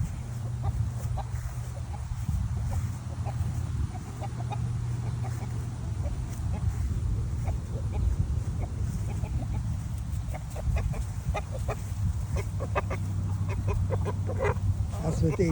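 A backyard flock of nine hens and one rooster clucks steadily outdoors with rain approaching, soft scattered clucks over a constant low outdoor rumble, with faint voice-like sounds mixed in.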